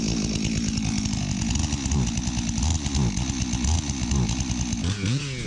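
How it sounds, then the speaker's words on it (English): A Stihl MS400 chainsaw cuts into a dead pine tree over 30 inches across at the base. The engine snarls loud and close throughout, its pitch wavering as the chain bites through the wood. "I'm using my Stihl MS400 to take it down"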